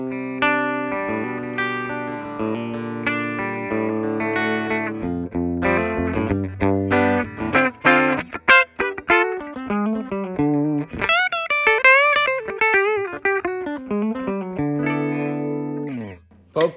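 A 1967 Epiphone Riviera E360 TD electric guitar played on its bridge pickup runs through chords and then fast melodic lead lines, loud and alone, ending in a brief pause and a final note.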